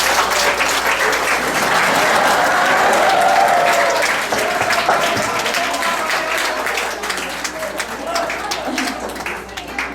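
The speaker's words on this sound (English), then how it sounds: "And I think they deserve an applause." Audience at a 2008 graduation ceremony gives a long, loud round of applause, dense clapping that swells early and then slowly thins, with voices mixed in.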